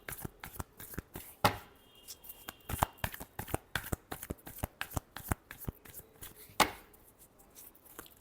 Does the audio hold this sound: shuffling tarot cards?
yes